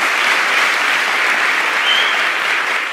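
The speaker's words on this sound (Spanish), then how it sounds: "Pues un gran aplauso." Steady, loud applause fills the hall at a tribute evening for Leo Brouwer: a thick, even wash of many clapping hands with no voices on top.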